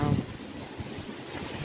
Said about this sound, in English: all these freak wind blowing gusts of wind that's coming through